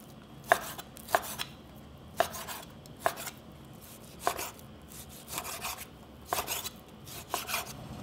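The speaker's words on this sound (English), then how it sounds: "Cut into bite-sized pieces." A knife cuts beef brisket with its fat into bite-sized pieces for Korean taro soup, sounding as about ten crisp, separate chops on a cutting board at an uneven, unhurried pace, close and clear with quiet gaps between strokes.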